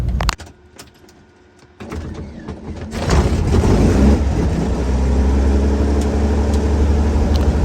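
A Cirrus SR22 piston aircraft engine cranks and fires, a few quiet clicks and a brief starter whir, then a loud rumbling catch near three seconds that settles into a steady close idle.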